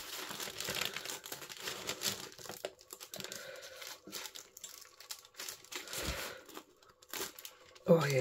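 Faux rice paper being torn and peeled, with close crinkling and ripping bursts that come and go, along with some handling noise.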